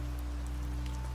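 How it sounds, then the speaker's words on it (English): Steady rain pattering on the glass of a small window in an old seaside cottage, a soft, even wash of drops with a low constant hum beneath it, close and continuous, no voices. "That is the sound that will keep you company all evening. Rain on the glass."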